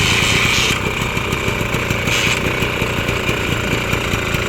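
Kick-started vintage vehicle engine at an outdoor vintage car fiesta, idling steadily close by with a rapid, even mechanical putter and a loud, constant drone throughout.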